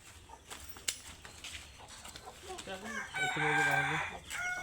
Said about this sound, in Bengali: এই কালো মুরগি দেখে যান